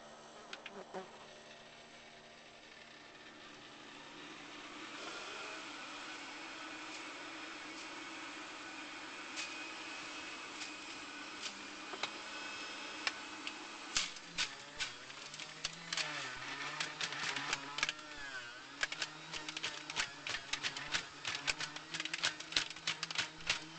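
An electric juicer processes halved grapefruit, giving a steady motor whine with rising grinding and clattering bursts toward the end, loud and close with no talking.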